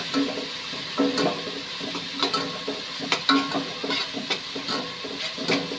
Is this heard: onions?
yes